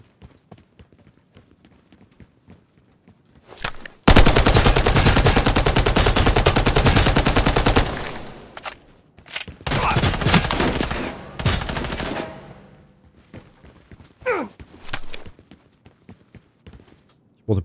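Gunfire in the video game Lost Light, dominated by a long, loud burst of rapid automatic fire, followed by further shorter volleys and scattered single shots, with players talking intermittently between the bursts.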